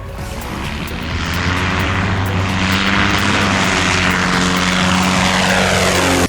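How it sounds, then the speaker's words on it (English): An E-flite RV-7 1.1m scale model airplane, fitted with Dubro 2-inch treaded wheels, drones steadily overhead as it flies and lands, its electric propeller holding a continuous buzzing whine with shifting pitch throughout, fairly loud and with no voices. "Just know that landing this plane takes technique, just like the full-scale RV-7 does."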